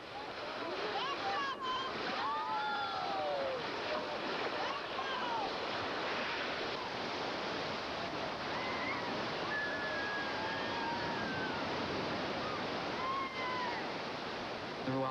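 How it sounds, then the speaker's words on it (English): Rough river water rushing during a rafting trip, a constant loud roar of churning rapids filling the whole stretch, with voices and shouts breaking through now and then. "The water's getting rougher"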